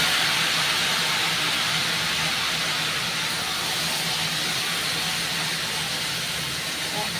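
Okra and potato pieces dropped into hot oil, frying with a loud, steady broadband sizzle that stays dense and even throughout, with no voices over it.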